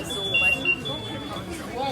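A shop's security gate alarm sounds as thin, intermittent high beeps over people talking nearby in a busy store.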